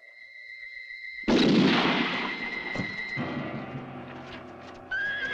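Gunfire in a spaghetti western film: one sudden loud blast with a long, rumbling decay, following steady tonal sounds and a horse-like whinny before it.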